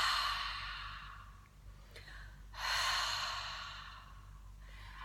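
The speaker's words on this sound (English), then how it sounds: "just imagine that you're misting up the mirror with your breath" Slow, breathy exhalations through an open mouth with a constricted throat, like misting up a mirror, two soft hissing breaths close by with a quieter one starting at the end.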